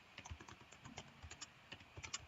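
Typing on a computer keyboard while a title is entered into a Google Forms form, with quick, uneven clusters of soft key clicks close by in a quiet room.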